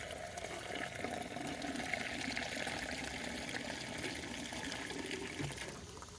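Gasoline pouring from a leaking gas can while refueling a Chinese mini excavator, a steady close splashing trickle of liquid running continuously throughout, with no talking.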